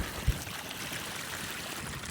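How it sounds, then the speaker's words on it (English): Snowmelt running off a snowfield in the San Juan high country, a steady soft trickle and wash of flowing water close by, with a brief low bump near the start and no talking. "I'm getting snowmelt off of the snowfield behind me. It's flowing down right here."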